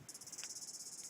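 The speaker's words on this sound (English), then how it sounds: "We have cicadas" Cicadas chirp in bushes at Breaker Bay, a fast, pulsing, high-pitched buzz that repeats steadily at moderate distance, quiet and alone with no talking.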